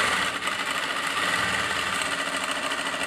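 A sewing machine stitches the side pocket of a pair of pants, giving a steady, close mechanical whir that runs unbroken and evenly loud throughout, with no talking.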